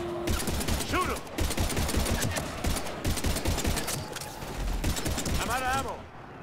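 Rapid gunfire and bursts from the Mass Effect 3 video game rattle almost nonstop under shouted dialogue and combat voices, loud and close, with a brief pause before more shots.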